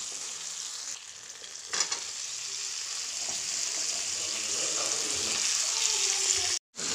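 Potato pieces fry in hot oil with onion and spices, a steady close sizzle broken by occasional scrapes and stirring, with a brief dropout near the end.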